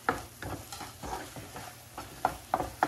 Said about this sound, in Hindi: थोड़ा सा हम इसको मसाले के साथ भूनेंगे।